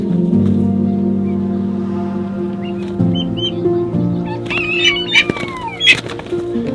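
Roosters and other fowl on a farm give brief chirping calls and clucks over a steady, humming background, with the calls growing busier toward the end.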